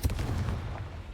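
A Confringo fire spell blast in Hogwarts Legacy: a sudden booming burst at the start that rolls off into a rumbling, crackling decay, heard alone without talk.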